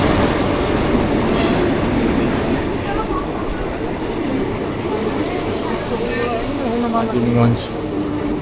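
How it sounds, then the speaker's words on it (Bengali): A train pulls into a station in rural Murshidabad, a loud rumbling roll with clattering wheels and brief squeals as it slows, heavy and close throughout with people talking amid the noise. "ট্রেন আমাদের চলে এসছে।"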